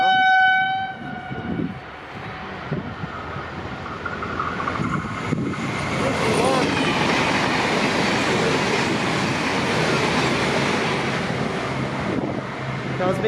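A train rolls through near a railway line by the Geelong Shell refinery, a loud sustained rumble with a horn-like tonal blast at the start, wind buffeting the microphone throughout.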